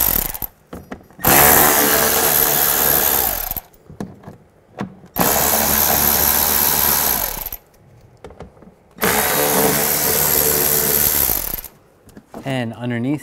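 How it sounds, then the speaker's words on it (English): A power drill with a T25 socket runs in three long whirring bursts, separated by short pauses, removing panel screws on a 2005-10 Volkswagen Jetta during a water pump replacement; close and loud. "Now I'm going to remove this panel, use a T25 socket and take out these screws."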